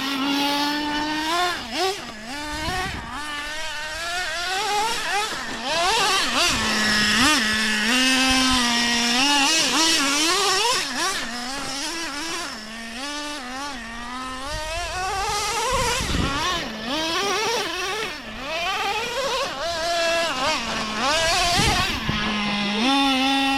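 Several nitro RC cars running at a construction site bash, their small high-revving engines buzzing and wailing loud and near, pitch rising and falling constantly as they accelerate and back off.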